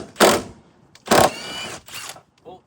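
Bursts of mechanical ratcheting and whirring from a tool with an 18 mm socket working on strut bolts of a 2017 Mustang GT S550, three loud close bursts with short pauses between them.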